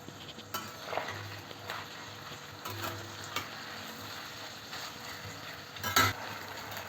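Onions sizzle softly in oil in a pan, fried with a little salt until dark red, with occasional scraping stirs and a louder clatter near the end, no talking.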